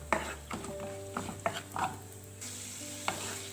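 Sliced cashews, almonds and raisins fry in ghee for a sweet dish: a soft continuous sizzle with several clinks of a spoon stirring in the pan, close and fairly quiet, no talking.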